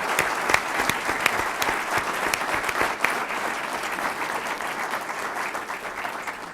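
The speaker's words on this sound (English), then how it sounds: "Let's give them another round of applause." Steady applause from a conference audience for a panel of ethics speakers, dense continuous clapping at moderate volume throughout with no voices.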